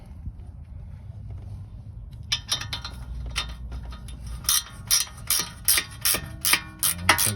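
A ratchet works on a brake caliper bolt on a 2014 Kia Forte: after a quiet stretch of low background hum, a run of crisp metallic clicks and clinks builds into a steady, close rhythm.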